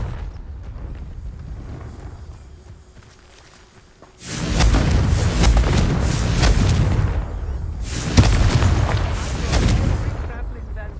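A Confringo explosive spell in Hogwarts Legacy bursts into a loud, broad roar. A second big blast follows a few seconds later, with lingering rumble between the two.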